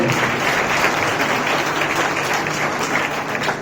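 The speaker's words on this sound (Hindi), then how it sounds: "जोरदार ताली बजाएं इन बच्चों के लिए।" Loud, steady applause from an audience at a school program for International Women's Day, honoring children receiving certificates; dense crowd clapping continues evenly throughout.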